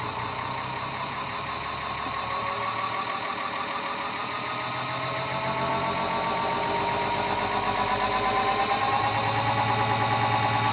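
A small generator engine runs at a steady idle, a constant droning hum with a slight rhythmic knock, close and unchanging throughout.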